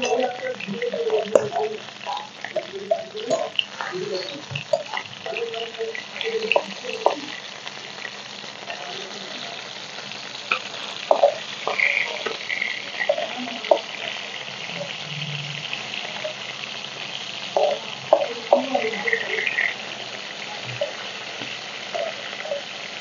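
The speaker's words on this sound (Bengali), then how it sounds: "তেল গরম হয়ে গেছে, মাছগুলো ভেজে নেব।" Katla fish pieces frying in hot mustard oil in a wok, a continuous close sizzle with intermittent crackles and spatula scrapes as pieces are turned, a voice speaking at times over the frying.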